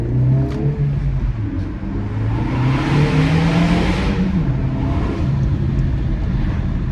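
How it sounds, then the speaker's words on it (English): A turbocharged 2024 Acura Integra Type S engine revs and accelerates with a steady, throaty rumble and a rising turbo whine, loud and close, with no talking. "when that turbo spools up, it sounds very aggressive"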